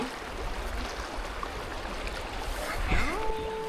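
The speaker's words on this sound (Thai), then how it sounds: "ตามลำธาร" Soft, continuous burbling of flowing water from a small stream in Mae Wang, Thailand, fairly faint, with a brief brighter tone near the end.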